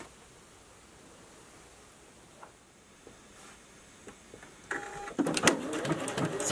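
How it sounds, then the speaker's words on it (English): A Juki HZL sewing machine begins stitching an elongation pattern, its fast mechanical whirr starting faint and rising to a louder, rhythmic chatter near the end after a quiet lead-in. "So now you're ready to begin stitching your pattern."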